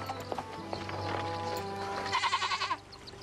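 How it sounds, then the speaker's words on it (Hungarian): A goat-like bleating, a quick wavering series of cries near the end, rises over a busy background of clip-clopping and other noise in a fairy-tale film. "Hagyd már abba a mekegést."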